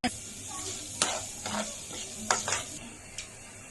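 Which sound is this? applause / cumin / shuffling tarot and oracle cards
cumin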